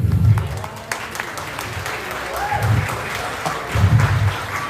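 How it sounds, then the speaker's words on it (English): At a fall swine show, an audience applauds with steady clapping that swells and fades in waves, while a voice speaks over it. "Give them a round of applause real quick."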